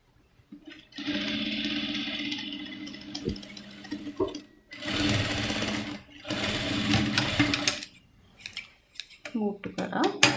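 A sewing machine stitches an underskirt seam in several loud runs of steady whirring, broken by short pauses and a few soft clicks and handling noises.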